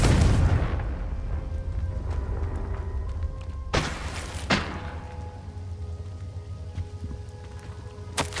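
A Confringo fire spell in Hogwarts Legacy goes off with a deep opening boom, then a rumbling crackle, and two sharp blasts burst out midway over a sustained low roar.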